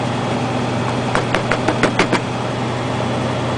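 A 1977 Chevy K10 stepside truck engine idles stone cold after a cold start, a steady low rumble with a short run of sharp knocking taps near the middle.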